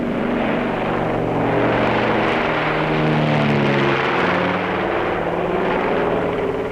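A small plane carrying trout fingerlings for an airdrop flies toward rugged mountains, its engine and propeller giving a loud, steady drone that holds level throughout with no voices.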